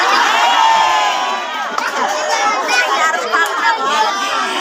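A crowd at an Indonesian religious gathering cheers and claps loudly, with excited shouts and chatter overlapping in a dense, continuous roar.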